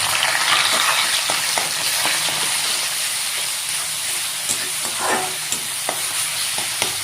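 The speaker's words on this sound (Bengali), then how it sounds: "এটা ভালো করে ভাইজা নিমু।" Ginger, garlic and onion paste frying in oil, a dense continuous sizzle and hiss with occasional stirring clicks, close and steady.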